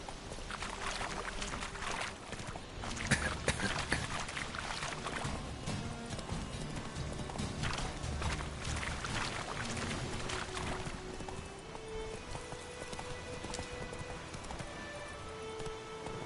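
Horse galloping in the Witcher 3 video game, a steady rapid clip-clop of hooves running continuously under game music and ambient sound, fairly loud throughout.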